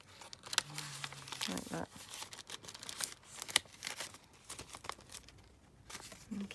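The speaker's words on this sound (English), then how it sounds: "we're just going to slide this back into that envelope" A greeting card slides into a paper envelope during Christmas shaker-card making, giving rustling, crinkly paper scrapes close by with a few sharp crackles, under and between bits of talk.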